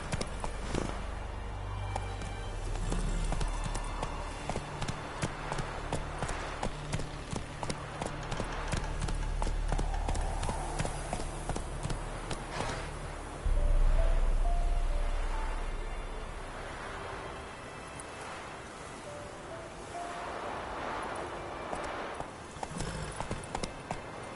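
Roach the horse galloping in the video game The Witcher 3, steady rhythmic hoofbeats clip-clopping throughout, with the pace shifting and a brief heavier thud midway, over a constant low rumble.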